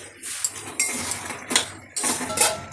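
Fried potatoes being stirred in a cooking pot for a chicken curry, with clattering metal scrapes and clinks of a spoon against the pot in several quick bursts, close by.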